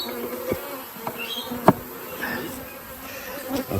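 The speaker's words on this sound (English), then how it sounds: "Closing the hive to trap as many bees as I can." Bees buzz around a Kenyan top-bar hive as it is closed up during a split, a soft continuous hum with faint passing buzzes and a few light knocks.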